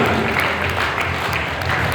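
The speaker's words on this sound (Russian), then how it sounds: "Громкие аплодисменты, музыку громче." At a consumer cooperative gathering, an audience claps as apartment keys are handed over on stage. Brief, continuous applause rides over loud background music with a strong low beat.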